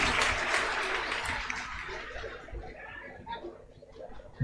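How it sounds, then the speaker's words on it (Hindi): An audience applauds at a coaching class event, a dense crackle of clapping that is loudest at first and then thins out and fades, with faint chatter underneath. "चलिए एक बार इन लोगों के लिए भी जोर से ताली बजा दीजिए।"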